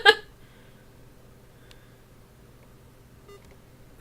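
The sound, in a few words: timer start beep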